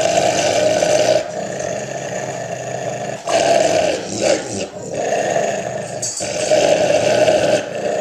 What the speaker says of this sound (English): Reggie is our 4-year-old Border Collie mix